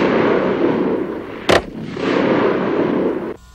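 A 1991 Advanced Combat Rifle fires a caseless-ammunition salvo burst at 2,100 rounds per minute, heard as one sharp, loud report that stands out over a steady background rush.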